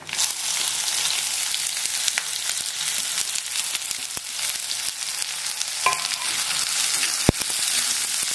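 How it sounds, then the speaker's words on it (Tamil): Two large finely chopped onions sizzle and crackle steadily in hot oil, with occasional scrapes and clicks from stirring, close up and fairly loud with no talking. "இந்த வெங்காயம் வதங்கிறது ரொம்ப ரொம்ப முக்கியம்"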